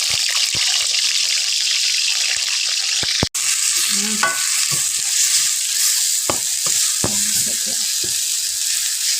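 Grilled-fish pieces frying in a pan of oil sizzle loudly and continuously up close. Scattered clicks, scrapes and one sharp knock of utensils against the pan break through the hiss.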